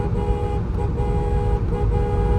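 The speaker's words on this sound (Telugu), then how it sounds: "హారన్ కూడా మంచి బ్యూటిఫుల్ హారన్" A Ford car horn sounds loud and steady, with a continuous honk held over engine rumble and two short dips in the tone.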